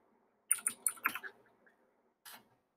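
Keys on a computer keyboard are tapped while text is entered in the vi editor on Linux: a quick burst of half a dozen soft clicks, then one more pair after a pause, faint and close.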